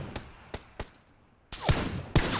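Scattered gunshots in the battle royale game PUBG: a few sharp single cracks spaced apart, then two louder, heavier bursts close by, with quiet gaps between them.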